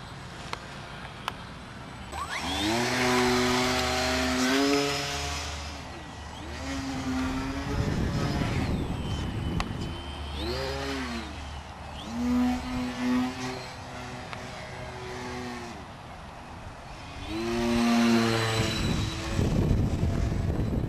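A radio-controlled foam model airplane buzzes overhead at a fun fly-in, its electric motor whine rising and falling in pitch as it passes near and away several times, with rushing wind noise between passes.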